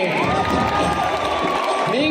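A lively crowd at a live Pongal celebration with TV serial stars claps and cheers, loud and continuous, with shouts and whoops rising over the steady clapping.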